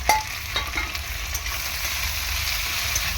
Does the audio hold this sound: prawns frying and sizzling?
yes